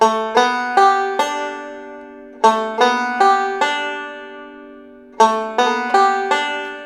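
Bright plucked banjo notes in a quick Scruggs-style rolling pattern, a four-point hammer-on roll lick played three times with short pauses between, clean and close with no voices.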